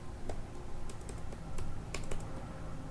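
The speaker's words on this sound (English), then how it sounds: "you simply open your terminal and type here pip install" Keys tapped on a computer keyboard as a pip install command is typed into a terminal: a quick run of light, irregular clicks over a low hum, close and alone with no talking.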